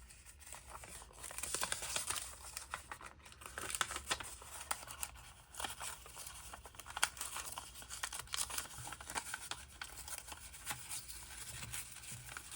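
Soft, close crinkling and ripping of a paper envelope being torn into pieces, with quiet irregular bursts of tearing and rustling throughout.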